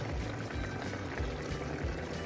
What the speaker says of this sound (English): add a little bit more water to this mixture